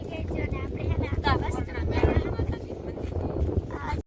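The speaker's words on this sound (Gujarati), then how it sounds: "અહીંયા પણ પવન છે" Wind gusting across the microphone outdoors at a village farm, a steady rough rumble lasting the whole stretch with people talking over it.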